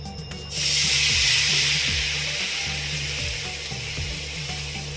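Milk poured into a hot pan still greasy from frying bread, a sudden loud sizzling hiss that starts sharply and then settles into a steady bubbling fizz, with faint background hum.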